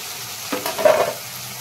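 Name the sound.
fried cauliflower added to the pan and stirred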